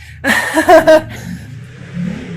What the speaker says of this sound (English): My neighbor's got a motorcycle that's loud.